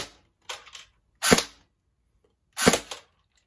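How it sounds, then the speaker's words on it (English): An AEG airsoft gun fires a few separate semi-automatic shots, each a sharp, close, snappy crack with a short mechanical tail, spaced about a second apart with quiet gaps between. "I'm gonna shoot the gun and see, let you guys hear what it sounds like"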